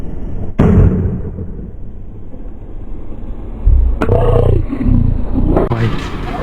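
An MRF 130/70 R17 tyre on a Bajaj NS 200 motorcycle snaps onto its rim bead with sharp, loud pops during inflation, over a continuous rush of air from the compressor.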